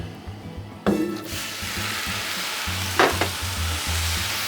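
Hamburger meat sizzles on a Blackstone griddle, a sudden loud hiss when it hits the hot surface, then a steady frying crackle with a couple of scraping stirs.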